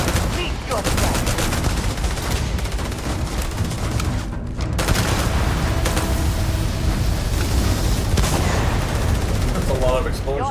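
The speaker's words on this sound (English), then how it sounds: "That's a lot of explosions." Dense gunfire and repeated explosions from a firefight in the video game Starfield, in the Lair of the Mantis. Loud, continuous bursts and booms fill the whole stretch, with voices talking intermittently underneath.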